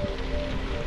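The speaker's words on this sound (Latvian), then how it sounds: "Reku man no muguras spīd saule un faktiski līst lietus." Steady rain falling during a bicycle ride near Pļaviņas, Latvia, in June, heard as a dense, even patter of drops hitting surfaces throughout, with no voices.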